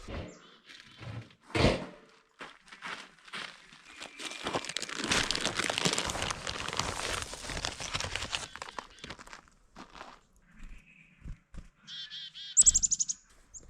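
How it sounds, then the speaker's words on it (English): Chickadees chirp in short, high calls near a cabin in the woods, mixed with rustling and crinkling from seed being handled, ending in a bright cluster of close chirps. "All right, chickadees, let's go get some seeds."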